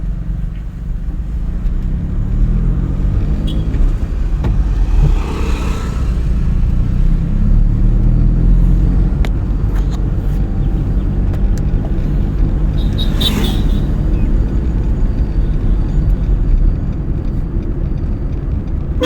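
A vehicle approaches along a road, with a steady engine rumble and a swelling whoosh as it passes close by. The sound plays against a constant background of traffic and driving noise heard from inside a training car on the road, with no talk.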